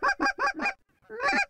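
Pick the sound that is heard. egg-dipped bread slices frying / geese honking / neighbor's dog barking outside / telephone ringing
geese honking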